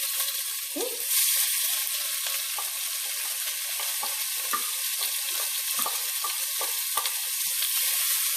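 Onions and garlic sizzling in a pan over medium heat: a loud, steady frying hiss throughout with scattered pops and a few stirring scrapes, close up.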